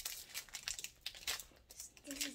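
The foil wrapper of a Pokémon Celebration card pack crinkles and tears as it is pulled open, giving a close, continuous rustle and rip, with a voice briefly heard near the end.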